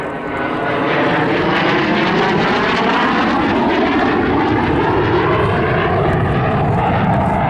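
A SAAB SK-37 Viggen jet roars loudly past the crowd at the 2019 Southport airshow, its engine noise swelling in over the first second and then holding as a steady, powerful, sweeping rumble.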